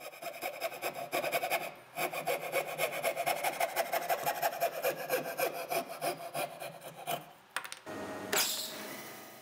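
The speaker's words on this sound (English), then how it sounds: "Either way, I cut it at the bandsaw." Wood is sawn for a bridle joint, with a close, steady pulsing rasp of cutting that pauses briefly near the start and stops near the end.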